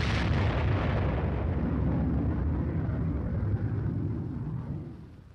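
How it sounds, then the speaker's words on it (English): General purpose bombs dropped from aircraft explode in a heavy, continuous roar of blasts and rumbling that holds loud for several seconds before fading out at the end. "Once they are spotted, the first flight drops general purpose bombs."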